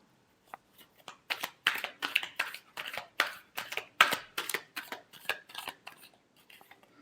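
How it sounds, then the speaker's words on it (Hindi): Tarot cards being shuffled during a Libra love reading: a run of quick papery riffles and slaps, about a dozen bursts in an uneven rhythm, close and fairly soft, with no voice over them. "last shuffle"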